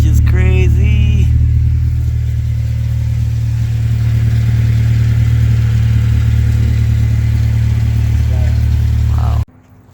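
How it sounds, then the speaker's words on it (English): A Honda CRX fitted with a full Skunk2 exhaust and Skunk2 coilovers holds a loud, steady engine drone close by, with a brief whine early on, before cutting off abruptly near the end. "So this is an actual full skunk tooth exhaust, which is crazy."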